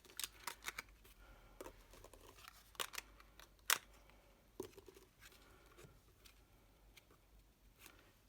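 Scissors snip through paper for a handmade gift box sized for a 6x6 mini album, giving a scattered run of quiet, close cuts and paper shuffling with irregular pauses between them.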